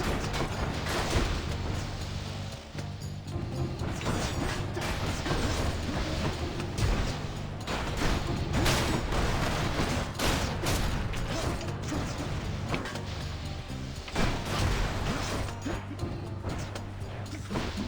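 Traps spring in the Hades video game with dense metallic clanks, ratcheting mechanisms and crashes. The clatter is loud and continuous and carries repeated sharp hits.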